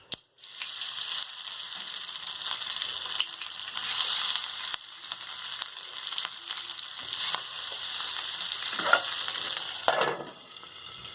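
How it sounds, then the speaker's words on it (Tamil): Steady crackling sizzle of sardines frying in ghee on a griddle, continuous and close, with a few louder spits and pops near the end. "இப்போ நம்ம இதை கல்ல போட்டு பொரித்து எடுத்துக்குவோம்"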